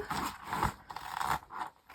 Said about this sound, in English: Be careful with your scissors as well, because you can actually cut through these gems.